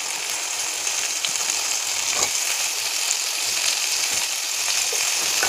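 Chopped tomatoes frying in a pan, giving a steady, close, hissing sizzle with occasional soft crackles and faint stirring, no voices over it.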